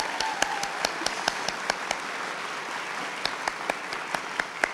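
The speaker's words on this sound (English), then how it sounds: "I'd like to have a round of applause for our amazing faculty and staff" Applause for nursing school faculty and staff at a pinning ceremony, a steady wash of many hands clapping in a hall with sharper individual claps standing out throughout.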